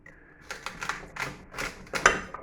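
Knife cutting through celery stalks, a series of crisp, close snapping chops in an irregular rhythm, several distinct cuts over a couple of seconds with no talking.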